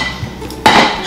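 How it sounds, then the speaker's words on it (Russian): Plates and forks knocking together in a home kitchen, a single sharp clatter after a quiet moment. "Тарелки, вилки."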